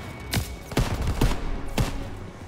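Machine gun fire in Call of Duty WW2: four heavy, spaced gunshot bursts ring out over a constant rumbling battle backdrop, loud and close.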